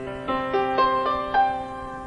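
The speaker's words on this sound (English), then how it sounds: "The master controller sounds like a piano." Piano tone from a MIDI master controller synthesizer, a handful of notes struck one after another at a moderate pace, clean and close with sustained ringing and no voices.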